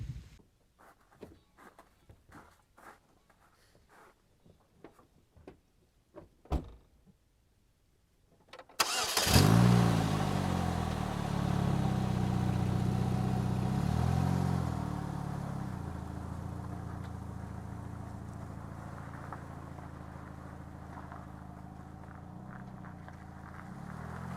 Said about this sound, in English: I'm going to go ahead and record as if I am driving away.